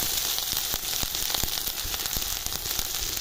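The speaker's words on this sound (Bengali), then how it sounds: "আমি সব বাটাগুলো দিয়ে দিচ্ছি নাড়ি সাড়ি মিষ্টি বাটা দিয়ে দিয়ে দিলাম লবণ দিয়ে দিলাম" Spice pastes, salt and potatoes sizzle steadily in a hot pan, with faint scraping strokes now and then as they are stirred. The frying is close and continuous, with no talk.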